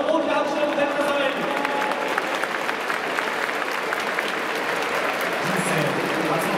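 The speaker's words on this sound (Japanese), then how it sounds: "もう一度大きな拍手を迎えください" Large stadium crowd applauding steadily at a Chunichi vs DeNA baseball game for actress Tamao Nakamura's ceremonial first pitch, a dense continuous wash of clapping with an announcer's voice over it.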